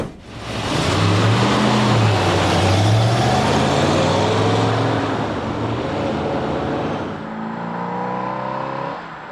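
A 1970 Ford classic car pulls away and is driven, its engine revving loud and close, the pitch climbing through gears and then easing to a steadier drone.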